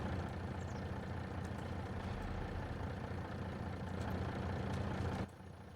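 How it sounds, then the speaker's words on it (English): A tractor engine in the farming video game Farming Simulator 25 idles at a steady, even drone for several seconds, then cuts off abruptly as it shuts down. "Guess we need to shut this tractor off. It should be good and warm by now."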